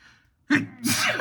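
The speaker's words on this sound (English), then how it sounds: "I just sneezed." One sharp human sneeze, close and loud, with a brief intake of breath before the explosive burst and a breathy tail, heard alone during an indoor talk recording.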